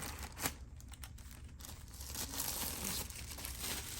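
Plastic packaging crinkles and tears as it is ripped off an Arctic Air Grip Go evaporative air cooler, with steady close crumpling and a sharper rip near the start.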